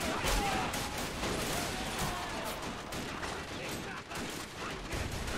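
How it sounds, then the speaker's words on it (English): A machine gun fires in a First World War video game set at Bois le Pretre in 1915, sustained rattling bursts of gunfire crackling continuously at moderate distance. "There's an MG somewhere, because I can't see it. I can hear it shooting at me."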